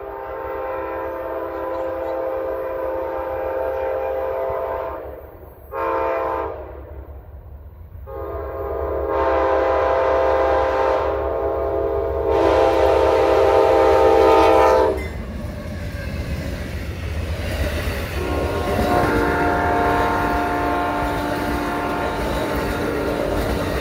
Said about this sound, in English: P092, the northbound Silver Star heading to New York.